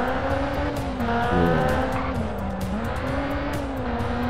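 Rallycross car racing through Los Angeles in Sébastien Loeb Rally Evo, a loud close engine droning and revving steadily through gear changes, with tyres scrabbling and squealing, no talk.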